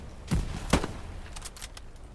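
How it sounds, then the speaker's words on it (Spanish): Gunfire in the World War II shooter Hell Let Loose, with two heavy booming shots followed by a few fainter distant cracks, a sparse, loud-then-quiet pattern with no talking. "Ametralladora fija."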